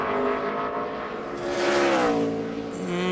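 A NASCAR Sprint Cup stock car screams through a qualifying lap at Loudon, its loud, steady engine whine sweeping in pitch as it comes past. No other sound competes with the engine.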